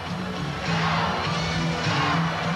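An indoor soccer crowd roars and chants during sudden-death second overtime between the Comets and Sockers, a loud, sustained arena swell with whoops and shouts rising in waves.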